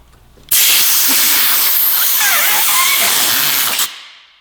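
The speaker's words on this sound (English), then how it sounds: "you can get a little compressed air between the grip and the controls." Compressed air from an air compressor blasts under a motorcycle handlebar grip on a 2017 Yamaha R6: a single loud, close hiss lasting about three seconds that starts abruptly and cuts off sharply.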